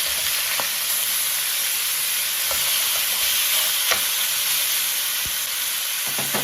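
Flipped pork chops for BBQ sizzle steadily in a hot pan, a loud continuous frying hiss with occasional sharp pops and crackles throughout.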